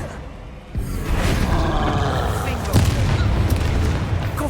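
Descendo spell impact in the Hogwarts Legacy video game, a heavy booming slam that swells into a sustained rumbling roar, loud and close.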